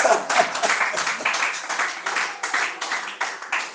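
A church congregation claps together to acclaim the Lord, steady rhythmic applause filling the room at close range with a few voices faintly underneath.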